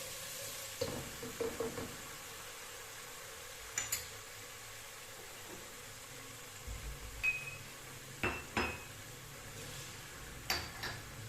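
Chili sauce, crushed chilies, salt and onions fry in a pan with a low, steady sizzle, broken by a few scattered clicks and stirring knocks, fairly quiet and with no talking.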